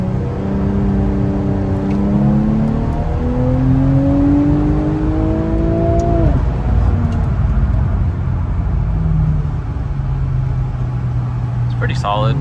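A Porsche 911 Turbo and an Infiniti Q50 Red Sport launch hard from a 325 rpm brake-boosted start, engines climbing steeply through rising gear pulls and loud throughout, with people talking over them.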